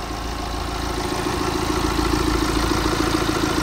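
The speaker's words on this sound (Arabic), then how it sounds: "فيها موتور ديال البي ام." A 2016 Mini Cooper Countryman with a BMW-built diesel engine idles steadily, a close, even clattering rumble that holds throughout with no talking.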